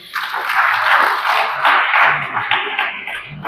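At a Tamil launch event for four poetry books, an audience claps for three honoured women with a fairly loud, continuous round of applause that rises and falls slightly.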